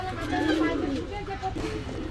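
Pigeons cooing inside a pigeon shop, a low rolling coo repeating through the whole stretch, close and steady over a busy background.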